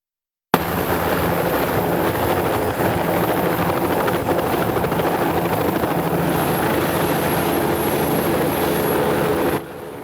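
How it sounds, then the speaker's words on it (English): A TH-57 Ranger military training helicopter's rotor thumps and engine whine roar steadily and loudly for the whole stretch, with no talking. "the first helicopter you saw is a TH-57 Charlie Ranger trainer"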